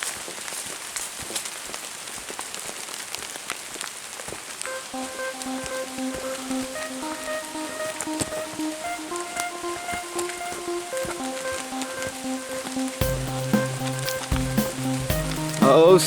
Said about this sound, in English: I knew the rain wouldn't be nice enough to wait till we got to the car.